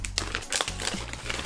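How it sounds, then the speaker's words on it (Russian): Plastic vacuum sealer bag, textured and reinforced rather than plain polyethylene, crinkling close up in a series of crisp bursts with no talking. "Это не обычные полиэтиленовые пакетики"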